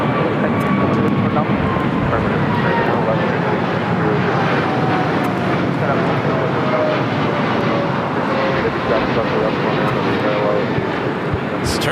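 A jet airliner roars loudly and steadily at LAX, passing close during a go-around as a descending engine whine carries through the broadband rumble; voices talk underneath.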